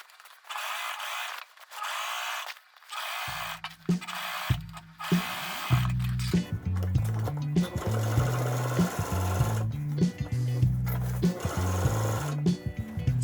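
A sewing machine stitches the center seam of a pinafore dress in bursts of steady mechanical whirring, starting and stopping several times, close and clear, with no talking.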